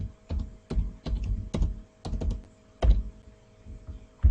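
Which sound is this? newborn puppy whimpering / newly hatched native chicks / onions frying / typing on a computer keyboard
typing on a computer keyboard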